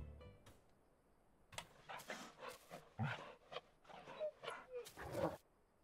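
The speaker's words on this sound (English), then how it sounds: "The little whimpers as well." The wolf companion Torgal from a Final Fantasy crossover event in Final Fantasy XIV makes soft whimpers and little yips while being petted, several short, quiet cries in an irregular cluster.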